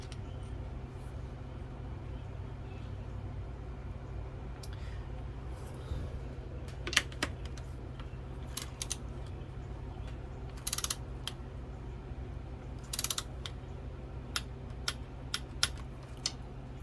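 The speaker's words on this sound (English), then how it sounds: "Trying to get my torque wrench set." A torque wrench is set to nine foot-pounds during a Honda Odyssey transmission rebuild. Small ratcheting clicks and mechanical ticks come in scattered clusters over a steady low hum in a quiet workshop.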